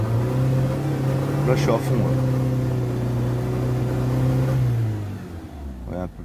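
A BMW engine fitted with an ethanol conversion kit and suffering a fault, idling and rising slightly in a steady hum before settling lower, with someone talking over it.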